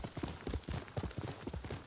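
Steady, rhythmic clip-clop of a galloping horse's hooves in Ghost of Tsushima, a quick repeating beat heard quietly and without talk.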